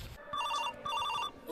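A telephone rings in two short bursts of repeated electronic trills with a brief pause between them, fairly close and clear, with no talking over it.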